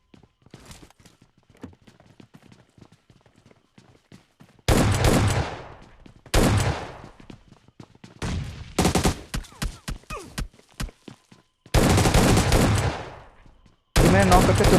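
PUBG Mobile Lite gunfire comes in several loud, close bursts of rapid automatic shots. Quieter clicks and footsteps fill the gaps between the volleys.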